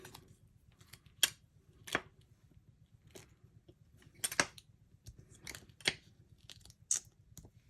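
Scissors cutting paper in a quiet room, a series of crisp, close snips at an irregular pace, some in quick pairs, with faint rustling between cuts.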